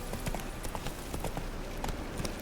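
Roach the horse trotting in The Witcher 3, a steady clip-clop of hooves in a regular rhythm under a dense backdrop of game sound.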